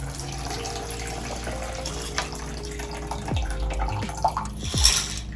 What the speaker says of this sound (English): I'm gonna pour water in here.